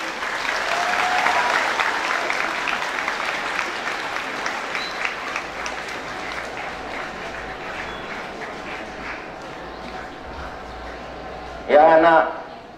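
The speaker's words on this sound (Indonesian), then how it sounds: "Ya, tepuk tangan dulu buat adik-adik sekalian" Students at a high school assembly in Ujungbatu applaud on cue, loud at first and gradually thinning as the clapping fades, before a brief burst of amplified voice near the end.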